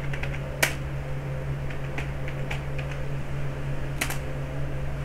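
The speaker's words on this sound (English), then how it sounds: "So I'm just typing." Sparse, unhurried keystrokes on a computer keyboard, a few soft clicks at a time, over a steady low electrical hum.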